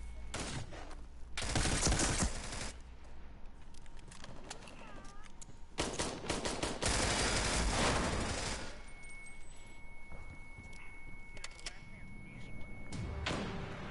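Gunfire in a video game as a teammate shoots: bursts of loud rapid shots and heavy blasts in clusters, with game sounds in between and a player talking over parts of it.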